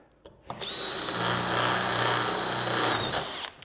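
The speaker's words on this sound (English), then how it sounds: "and pop a rivet in there." A riveting tool fixes a bracket to an aluminium section of a garden room base, giving one continuous close mechanical buzz of about three seconds that starts and stops sharply.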